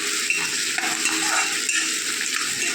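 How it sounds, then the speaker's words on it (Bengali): Chopped onion and ginger stirred and fried in very hot oil, a loud, continuous crackling sizzle with the soft scrape of a spoon moving through the pan. "এটাকে ভালো করে নাড়িয়ে চাড়িয়ে ভেজে নেব।"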